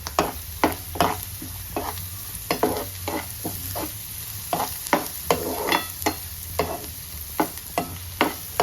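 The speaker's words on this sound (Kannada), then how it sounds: "ಈರುಳ್ಳಿ ಫ್ರೈ ಆಗ್ತಾ ಇದೆ" Onions sizzle steadily in a hot pan while a spatula scrapes and taps at a regular rhythm, close up and with no talking.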